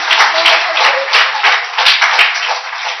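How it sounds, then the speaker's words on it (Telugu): A group of people clapping together indoors at a gathering, loud, steady, close-up applause for about three seconds, without talk. "చప్పట్లు కొడదాం"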